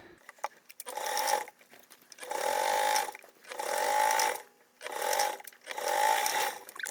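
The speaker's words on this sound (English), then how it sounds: "follow me over to the sewing machine" A sewing machine stitches a tote bag seam with a 3/8 seam allowance, running in five fairly loud, close whirring bursts. Each lasts about a second and is separated by short quiet pauses.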